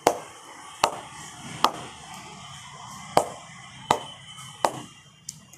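A cricket bat is tapped sharply about seven times at a steady, unhurried pace, each knock a crisp, close wooden crack with a short ring.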